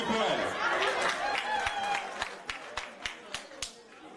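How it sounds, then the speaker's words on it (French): An audience at a gala evening applauds over chatter, the noise starting as dense crowd sound and thinning into scattered, distinct claps toward the end, with voices talking throughout. "Est-ce qu'on peut applaudir pour elle?"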